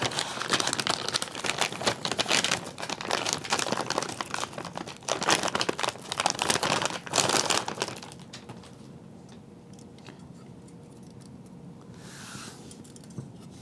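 An old, dried-out sticker is peeled off a Windows for Workgroups retail box, giving a loud stretch of crinkling, tearing paper and card for about eight seconds, followed by a quieter pause with light handling.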